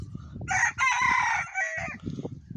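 A village rooster crows loudly and close by, one long drawn-out call with clucking and scratchy farmyard noise underneath.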